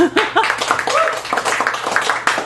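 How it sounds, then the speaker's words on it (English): A small café gallery audience in Chicago claps for poet Janet Kuipers at a reading, scattered close hand claps mixed with voices talking and cheering over the brief round. "Janet Kuipers, everybody, round of applause."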